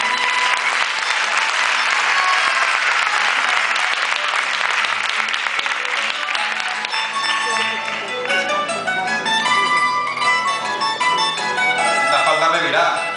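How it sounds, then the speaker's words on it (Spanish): An audience applauds at a jota performance, a loud sustained round of clapping that runs for over ten seconds, with music and voices emerging beneath it in the second half. "Un aplauso para ella."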